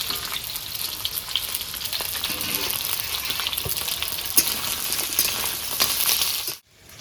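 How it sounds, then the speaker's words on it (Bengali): Ivy gourd (kundru) pieces sizzling in hot mustard oil in a kadai, a continuous close crackle and hiss with occasional metallic scrapes and taps from stirring, ending abruptly. "তেলটা গরম হয়ে গেছে, ভিন্ডি বলছি কিন্দুরিটা হালকা করে ভেজে নেবো।"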